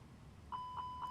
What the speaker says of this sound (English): Engine fire tests will run engine 1, lights up, warning, master caution on both sides, alarm, and the checklist